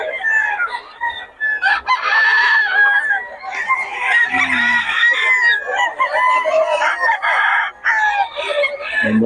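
Rooster crowing repeatedly with clucking and other fowl calls at a busy poultry market, loud and close, with crowd noise around it.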